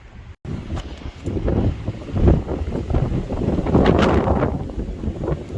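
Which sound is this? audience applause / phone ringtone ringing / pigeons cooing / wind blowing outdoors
wind blowing outdoors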